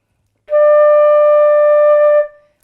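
A single sustained mid D on the flute, held steady and clear for nearly two seconds after a brief silence, then released with a soft fade; no talking.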